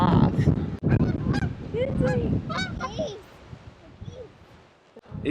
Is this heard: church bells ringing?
no